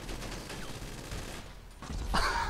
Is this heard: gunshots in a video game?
yes